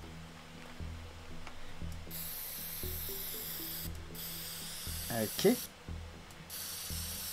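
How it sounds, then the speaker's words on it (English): Spray painting the side of a van in the video game Teardown, several hissing aerosol bursts starting and stopping over a low rhythmic mechanical backdrop, with a brief spoken word in between. "You're spray painting the side of your own van."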